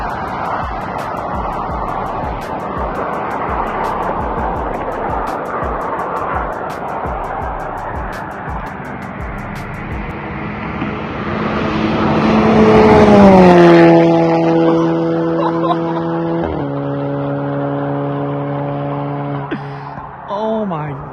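A straight-piped Audi TT MK2 2.0 TFSI with a DSG gearbox accelerates with a raspy, rising exhaust roar, then downshifts with sharp stepped blips that fade as it moves away.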